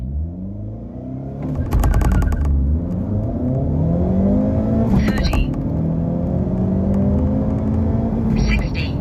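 A 2025 Hyundai Elantra N with a manual gearbox launches hard from about 3,400 rpm, its engine roaring loud and close as revs climb through the gears with sharp shift breaks, while a voice talks over part of the run.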